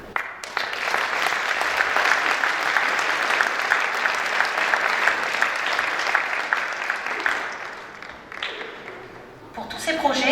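A hall audience at a town's New Year greetings ceremony applauds warmly for the city's partners, sustained dense clapping that fades near the end before voices return.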